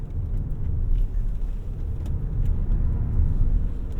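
2025 Toyota Crown Platinum Hybrid sedan in Sport S Plus mode taking roundabouts, a steady low cabin rumble of road and engine noise from inside, with no voices.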